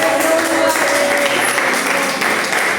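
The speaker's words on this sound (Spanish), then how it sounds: "Démosle un aplauso de victoria a Él" A church congregation breaks into sustained applause, a dense, steady wash of clapping filling the room at fairly high level for the whole stretch, with a faint voice or tone threading underneath.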